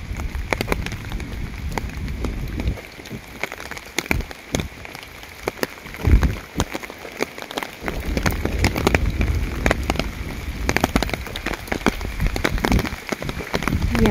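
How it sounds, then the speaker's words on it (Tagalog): Heavy rain falls outdoors on a cold day in the UK, a dense continuous patter and hiss of drops striking surfaces nearby, swelling louder in waves with occasional sharp splashes and knocks. "Yan, lumakas pa lalo yung ulan."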